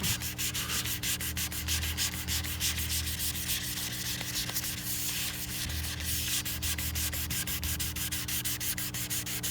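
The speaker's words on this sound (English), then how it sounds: "that makes your sandpaper so it doesn't cut as fast" Sandpaper sanding primer on a guitar body by hand, a fast steady back-and-forth rasping rub, close and continuous, with no talking.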